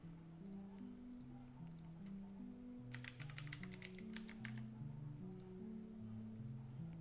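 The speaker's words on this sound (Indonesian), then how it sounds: "Di sini saya ketikkan" Typing on a computer keyboard, a soft run of quick clicks with a denser burst midway, fairly faint and alone.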